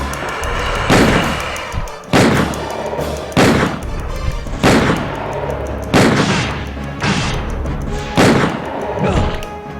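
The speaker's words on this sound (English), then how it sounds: "We should probably get some distance and then start shooting" Loud gunfire in the survival horror game Resident Evil 2: about seven heavy, booming shots spaced roughly a second apart, each ringing out over a constant backdrop of music and ambience.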